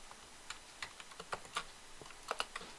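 Keys tap on a computer keyboard while entering a Ctrl+C, Ctrl+V copy-paste shortcut, a faint, close run of light, irregular clicks with a quick double stroke near the end, no talking.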